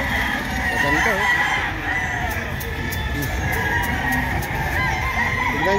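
Roosters crowing among clucking fowl at a poultry hobby expo, several loud crows rising and falling over crowd murmur, with people talking nearby.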